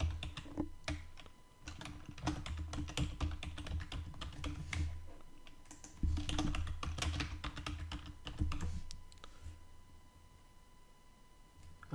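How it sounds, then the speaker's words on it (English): Fingers typing a password on a computer keyboard, a steady run of quick close clicks and key taps with brief pauses, heard alone. "Type in my password."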